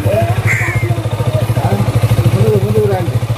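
A motorcycle engine running near at idle with a rapid, steady pulsing thump from its silencer, loud and continuous, with faint voices in the background.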